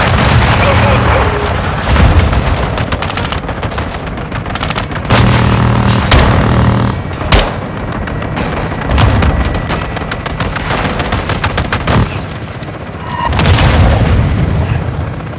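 Air-support bombing in the Call of Duty: Modern Warfare II campaign, heard as repeated heavy booms and rumbling explosions with crackling debris and gunfire, loud and continuous across the whole stretch with swells of blasts.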